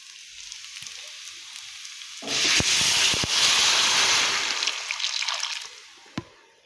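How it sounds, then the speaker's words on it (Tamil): Peas and potato kurma frying in a pan as chili powder is stirred in, a loud steady sizzle that swells abruptly, holds for several seconds with a few sharp clinks, then eases off. "நல்லா கிளறி விடுங்க."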